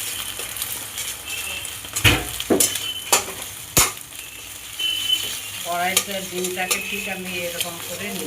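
Egg and potato frying in a kadai, with a steady sizzle broken by sharp spatula scrapes and clinks against the pan, close and fairly loud, while someone speaks briefly over the cooking.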